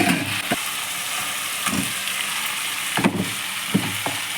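Chicken pieces sizzle in hot oil with turmeric, a steady close frying hiss broken by a few soft stirring knocks, with no talking.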